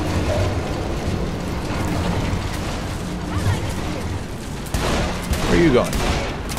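Gunfire in Saints Row The Third Remastered, a big weapon with a slow rate of fire, crackling as a dense volley under music and game noise, with a voice speaking briefly over it.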